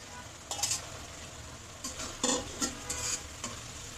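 Spinach and fried mola fish go into a hot pan and are stirred, giving soft intermittent scraping and clinks over a faint steady sizzle, fairly quiet and close.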